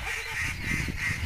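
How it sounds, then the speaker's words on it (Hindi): Loud, repeated honking calls from a goose-like bird in a rural hill-village setting, a few harsh nasal blasts close to the microphone with no talking. "अभी ये चिड़िया इतने क्या क्या क्या क्या चिल्ला रही है ना"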